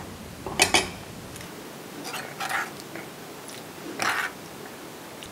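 Kuzhambu, a buttermilk and mango curry, being moved into a serving vessel: a few distinct metallic clinks and scrapes of a spoon against pots, spaced apart over a quiet kitchen background.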